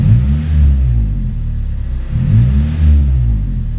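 A car engine revs in first gear, close and loud, with two rising-and-falling rumbling surges separated by a steadier idle, no talking over it.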